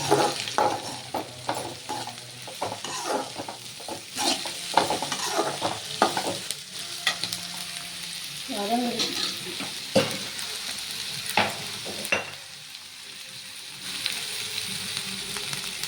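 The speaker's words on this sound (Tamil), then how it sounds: "எல்லா காயும் போட்டு குடமிளகா, கேரட், பீன்ஸ் போட்டுட்டேன். நல்லா வதக்குங்க." Bell pepper, carrot and beans sautéing in a pan for fried rice give a steady close sizzle, broken by repeated scraping stirring strokes throughout.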